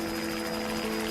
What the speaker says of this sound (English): Her prayers are answered when she hears a helicopter